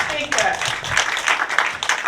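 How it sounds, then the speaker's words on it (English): An audience at a community mental health awareness event held by nurses in Houston gives a round of applause, with bursts of clapping mixed with people talking over it. "Join me to give a round of applause to our dynamic speaker."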